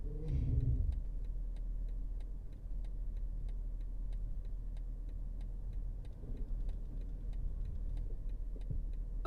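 A 2021 BMW 540i xDrive's turn signal ticks steadily inside the cabin, an even run of light clicks spaced about half a second apart over a low, constant engine hum, with no one speaking.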